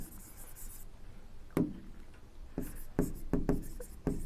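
Chalk or a marker writes on a board during a chemistry lesson, with soft scratching strokes and several sharp taps in the second half, close and clear, with no talking.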